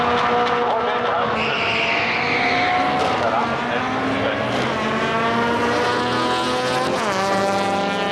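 Dodge Demon A-body car drag racing on a street-style track, a loud continuous engine roar with rising and shifting harmonics as it pulls away, backed by crowd noise and an announcer talking over it.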